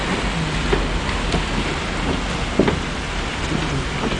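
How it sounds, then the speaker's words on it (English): Light rain patters steadily with soft hiss and a few sharper drips, continuous throughout with no voices. "It's barely raining now."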